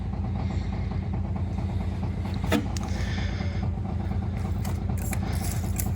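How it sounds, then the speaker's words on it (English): Electric fuel pump on a 1972 TVR 2500M filling the carburetors, a faint steady mechanical whir with light ticking and a few soft clicks, close and continuous with no talk. "The fuel pump has gotten quieter now, so they must be filling up"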